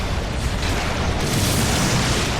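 An exploding bug goes off in the video game Ninja Blade, a loud, dense roar of noise that fills about two and a half seconds without a sharp single onset and without voices.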